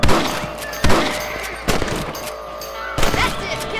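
Hunting rabbits in Red Dead Redemption 2 brings a few sharp gunshots about a second apart, each a loud crack with a short echo, over a steady outdoor game ambience.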